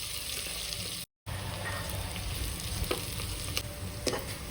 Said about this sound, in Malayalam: സവാള ഒരു നല്ല ഗോൾഡൻ ബ്രൗൺ കളർ ആവുന്നോടം വരെ നന്നായിട്ട് തന്നെ ഇതൊന്ന് വഴറ്റിയെടുക്കണം